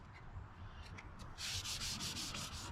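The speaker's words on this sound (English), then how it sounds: "Let's start sanding on it." Hand sanding close by on a 1959 Apache's car clear coat: a few short scrapes, then a rapid run of rhythmic back-and-forth rasping strokes on a hard surface.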